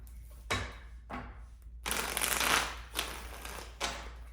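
Tarot cards are handled and shuffled in short bursts of papery riffling and rustling, up close and fairly quiet, with a longer flurry in the middle.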